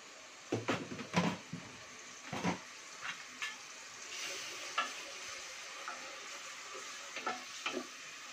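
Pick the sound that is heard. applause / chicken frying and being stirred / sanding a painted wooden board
chicken frying and being stirred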